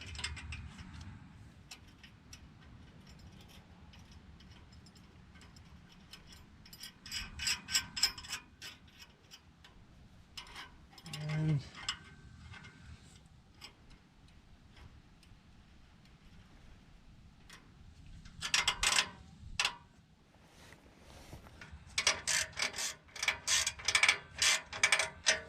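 Ratchet wrench tightening nuts on an exhaust muffler clamp during a resonator and muffler replacement on a Nissan Altima, heard as bursts of rapid clicking that start, pause and start again, close by and fairly loud.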